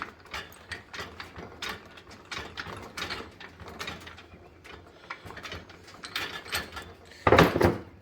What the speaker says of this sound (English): Tighten it down as you're holding this clockwise.